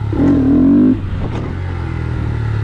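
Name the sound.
Honda Grom motorcycle revving before clutch drop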